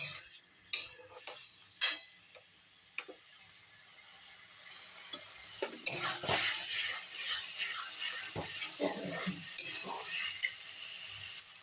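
Boiled potatoes and soybean chunks stirred and fried in a pan, with scattered scraping clinks of a spatula at first, then a steadier sizzle with repeated stirring strokes close by, a faint voice now and then.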